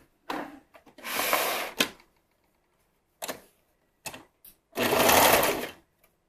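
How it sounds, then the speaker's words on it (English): A serger sews a seam on swimsuit fabric in short whirring runs, two longer loud bursts and several brief stutters, close up, with silence between them. "I'm just going to serge this on with a 1/4 inch seam allowance"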